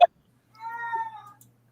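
A single drawn-out cat meow, close and clear, lasting under a second after a brief click, with quiet room tone around it.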